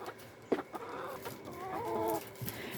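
Backyard chickens clucking at feeding time, soft murmuring clucks with a sharper squawk near the start, fairly close but low in level among outdoor ambience.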